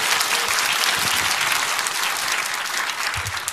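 A crowd at a Korean church gathering claps in a loud, continuous wash of applause that holds steady throughout, with no speech over it.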